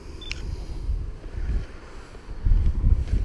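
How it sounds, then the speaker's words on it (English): Steady wind buffeting the microphone during a hare and hounds hunt in Shropshire in February, rumbling low and gusting louder toward the end, with no voices. "Very windy as well, and Betty don't like the wind that much"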